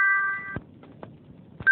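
A small bell rings in an animated folk tale, one sustained bright tone that cuts off, a few soft knocks in the quiet, then a fresh strike of the bell at the very end.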